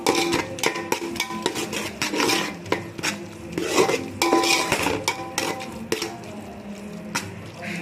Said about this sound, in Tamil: நல்லா கலந்து விட்டு நல்லா வதக்கி விட்டுக்குங்க